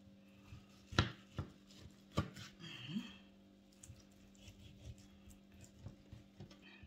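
Knife chopping sheep tail fat on a board: a few sharp, close thuds spaced irregularly, followed by softer, quicker cuts, with no one talking.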